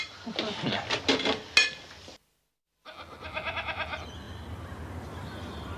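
A few goat bleats ring out close by, then a short silence, followed by more wavering bleats over a rustling background.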